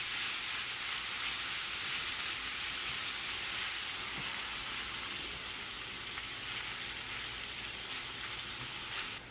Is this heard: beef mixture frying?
yes